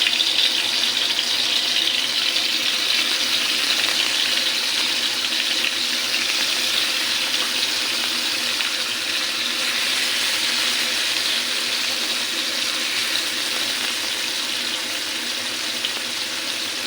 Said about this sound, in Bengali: এখন আমি মাছটা তেলে ভেজে নেব।